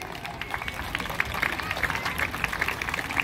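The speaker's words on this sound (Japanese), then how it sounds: "拍手でお迎えください。" At a ballpark in Kitakyushu, a crowd claps to welcome a guest onto the field, a steady, moderately loud patter of many hands with sharper individual claps standing out, heard from within the stands.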